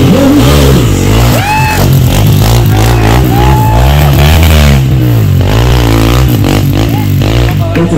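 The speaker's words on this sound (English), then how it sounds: "xpulse bike" A Hero Xpulse motorcycle rides off-road in a time trial race in Valpoi, Goa, its engine loud and close, revving and shifting pitch over clattering and scraping, with faint crowd noise in the background.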